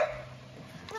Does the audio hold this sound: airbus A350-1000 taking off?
no